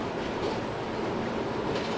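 An R160 subway train on the J line in the OpenBVE simulator game runs with a continuous broadband rumble and rattle, steady and close for a couple of seconds.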